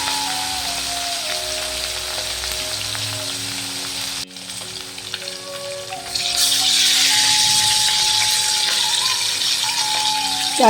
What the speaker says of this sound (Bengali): মাছ তেলটা গরম হয়ে গেছে, এখন আমি মাছগুলো ভেজে নেব।